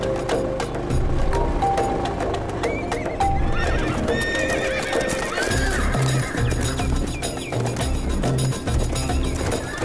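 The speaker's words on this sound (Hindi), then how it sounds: "इतने सारे घोड़े यहाँ कैसे?" Many horses neigh and whinny over steady clip-clopping hooves, a dense continuous mix of loud, close animal calls and hoofbeats lasting throughout.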